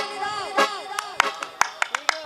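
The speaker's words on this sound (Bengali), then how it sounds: "একটু করতালি দাও" Sharp, irregular hand claps from an audience at a Bengali devotional song performance, scattered and uneven over a sustained sung melody with harmonium-like tones.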